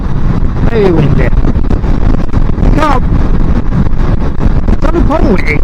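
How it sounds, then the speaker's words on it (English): Strong wind buffets the microphone continuously during a motorbike ride on an English road, a loud, steady roar with a rider talking over it. "as you can see, very windy"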